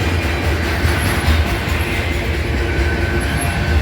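A BNSF freight pig train of intermodal cars rolls through Abbeville, South Carolina, with a loud, continuous rumble and rhythmic wheel clatter close by, plus faint high squeals now and then.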